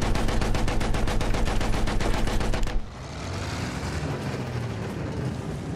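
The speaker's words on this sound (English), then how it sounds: "Stop firing at me" Battlefield 1 gunfire in a muddy World War I trench battle: loud, rapid, evenly spaced automatic shots that suddenly stop after about three seconds, giving way to a rumbling, rain-like wash of battle noise, with no talking.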